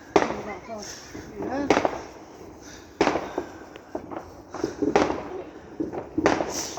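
Fireworks and firecrackers crackle and pop at a bonfire night gathering, sharp irregular bursts going off nearby, with people talking over them.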